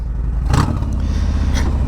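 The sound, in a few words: Harley-Davidson Fat Bob motorcycle with Bassani 2-in-1 exhaust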